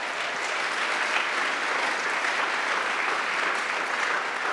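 A church congregation applauding and acclaiming the Lord, a thick, even wash of many hands clapping together, sustained and fairly loud throughout without spoken words.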